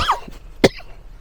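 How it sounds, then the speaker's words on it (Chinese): A single sharp cough from a person, an older traveller short of breath at altitude while crossing Tanggula Mountain in a blizzard, preceded by faint breathy sounds and followed by quiet. "你看我这个咳嗽"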